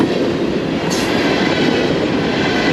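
A freight train passes on the line toward New York and Boston near Buffalo, a steady, loud rumble of rolling wagons with faint clickety-clack running throughout, no voices.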